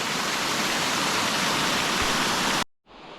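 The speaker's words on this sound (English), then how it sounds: "that's the main waterfall that most people see down there" A roaring waterfall pours continuously, a loud, broad rush of falling water that cuts off abruptly near the end.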